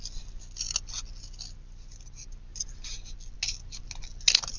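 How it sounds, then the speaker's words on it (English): Scissors fussy cutting around a paper image for a mixed media journal cover, a close, crisp run of quick repeated snips with small rustles between cuts and a sharper snip near the end. "fussy cut something like this"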